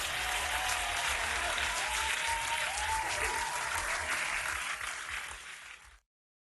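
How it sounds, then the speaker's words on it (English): Steady round of applause from a group during a practice session, an even, continuous clapping that holds level and then cuts off abruptly. "Round of applause."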